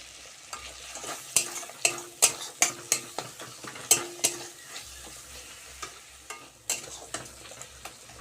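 Masala being fried and stirred in a pan after cumin and coriander powder go in for a paneer dish, with a steady close sizzle and a quick run of sharp spatula scrapes and clinks against the pan.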